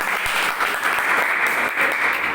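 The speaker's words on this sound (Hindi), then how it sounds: "ताली हो जाए सर" Audience applause at a home business meeting, a steady wash of clapping from a small indoor crowd, fairly loud and continuous throughout, with no talk over it.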